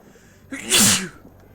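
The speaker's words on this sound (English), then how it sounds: "Sneeze." A single sharp sneeze, close and loud, with a quick intake before the burst, then quiet.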